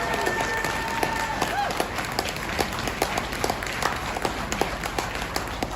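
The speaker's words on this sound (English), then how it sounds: "Give him a round of applause." Outdoor crowd at a winter convoy rally in Winnipeg gives steady scattered applause, a continuous wash of claps with some louder nearby hand claps throughout.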